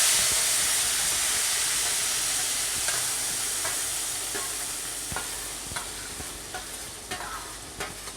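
Nigella seeds sizzle and hiss steadily in hot oil in a pan while a spoon stirs them, sharp scraping clicks growing more frequent as the frying fades slightly; no one speaks.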